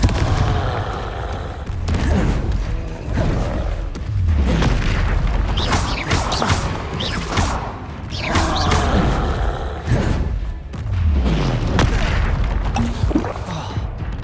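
Confringo blasting spells explode repeatedly in the video game Hogwarts Legacy, a rapid string of loud booming blasts and crackling impacts layered over constant combat noise.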